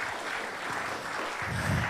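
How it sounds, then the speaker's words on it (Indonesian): Audience applause at an Indonesian community movement event, steady broadband clapping from a crowd filling the clip at moderate level with no speech over it. "boleh kasih tepuk tangan buat semua yang terlibat"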